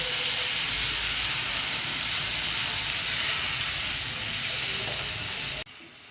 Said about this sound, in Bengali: এবার আমি টমেটো, পেঁয়াজ আর আদা বাটা পেস্ট দিয়ে দিলাম।